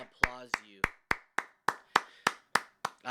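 Steady, evenly spaced hand claps, about ten in a row, sharp and close, with a brief voice audible under the first few.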